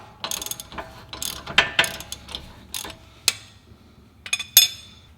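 A hand ratchet works loose the 15 mm axle nut on a Mustang drag build in a garage, giving bursts of sharp clicking pawl strokes with irregular pauses, close and clear, with no talk.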